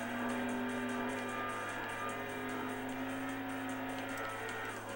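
A race car engine in the video game Import Tuner Challenge holds a constant loud drone with a steady tone, with gear shifts and tire noise blended in and no talk over it.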